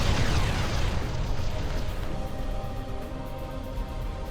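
Bombardment explosions in the strategy game Ground Control, a loud continuous rumbling roar of blasts that starts heavy and stays dense throughout.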